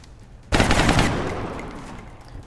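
A soldier fires a weapon in the video game XCOM Long War: a sudden loud burst of rapid gunfire that cuts in sharply, then trails off into a fading echo.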